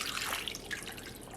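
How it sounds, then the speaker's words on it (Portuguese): Water poured into a small slow cooker over chicken, a steady close trickle and drip running continuously with no talk. "Vou colocar mais um pouquinho de água"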